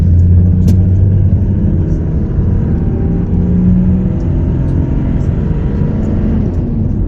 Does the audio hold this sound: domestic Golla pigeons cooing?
no